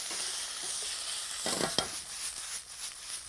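Marinated beef stir-fries in a hot wok with garlic and dry chili, giving a steady, bright sizzle with scraping and tossing clatters from the spatula, close and continuous, with no talking.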